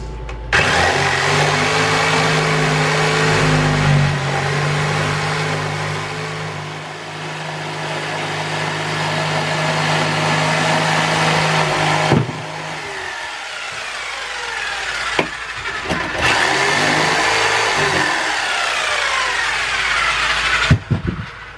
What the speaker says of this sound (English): This way our jigsaw blade will fit right down the inside of here, and then we're going to work our way around.